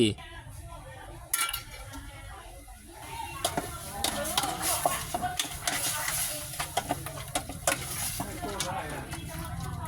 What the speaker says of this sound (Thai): หลังจากนั้นเราก็จะรวนหมูของเราให้สุกร้อยเปอร์เซ็นต์ไปเลยนะครับ